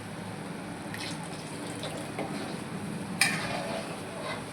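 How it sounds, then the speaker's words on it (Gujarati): Water poured in a thin steady stream around thick chole chana curry in a pan, a soft continuous pouring with one sharp clink near the end. "થોડું મને જાડું લાગતું હતું એટલા માટે હું ફરતી થોડું પાણી રેડું છું"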